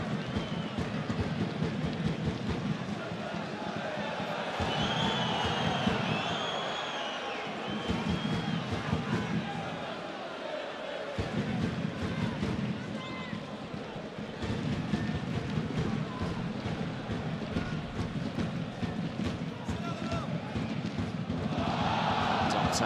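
Football stadium crowd at a Nîmes versus Nice match, a loud continuous roar and murmur that swells and dips in waves, with a commentator speaking over it.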